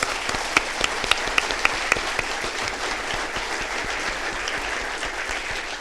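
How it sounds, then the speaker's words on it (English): An audience at a Downey city council meeting gives a sustained round of applause, dense clapping with a few sharper individual claps standing out, continuing steadily for about six seconds. "So let's give them a round of applause, please."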